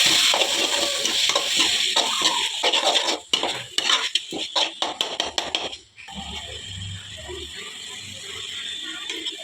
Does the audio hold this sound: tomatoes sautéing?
yes